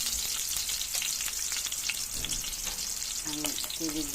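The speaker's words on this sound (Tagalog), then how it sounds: "Igigisa tayo yung kamatis. Natin ang sibuyas." Tomatoes and onions sautéing in a pan, a steady loud sizzle and crackle of frying with occasional stirring scrapes, close up and continuous, with a few faint tonal sounds near the end.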